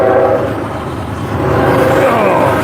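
A train passes near a knife-forging shop, its heavy rumble and rolling roar filling the space, with a sustained horn tone building toward the end.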